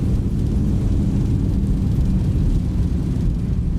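Thrust reversers roar on a Boeing 737-800 landing in the X-Plane 11 simulator, a loud, constant, low rumble that stays steady throughout.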